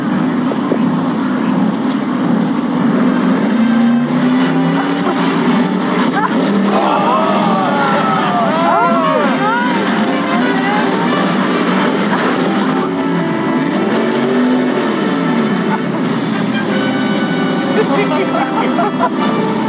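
A Monster Jam monster truck engine roars loud and close for the whole stretch, a rough, unmuffled growl that rises and falls, with people talking over it.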